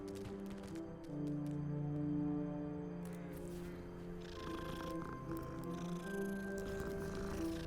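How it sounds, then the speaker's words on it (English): A cat purrs inside the video game Hogwarts Legacy, a steady low rumble lasting several seconds beneath layered background game music. "It's a cat."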